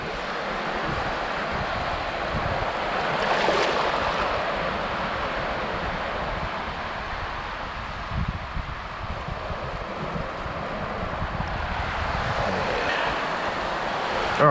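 Ocean waves wash up onto a beach in a steady, broad roar of surf that swells and recedes continuously, with some wind buffeting the microphone and no talking.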